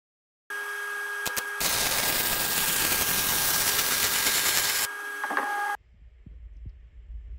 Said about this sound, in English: let's get this piece square, tacked, and welded